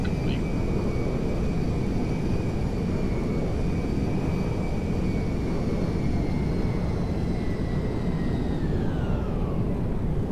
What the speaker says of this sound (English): Charlie Mike Golf 15433 cleared for landing on runway 1